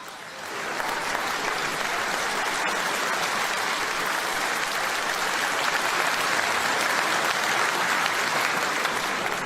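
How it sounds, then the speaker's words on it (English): A large crowd at a political rally in Sunderland claps and cheers, a dense, loud and continuous roar of applause that swells in during the first second and holds steady throughout. "this is the first time ever that a crowd in Sunderland have stood up and cheered you"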